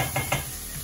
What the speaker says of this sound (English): we need to put some butter inside the pan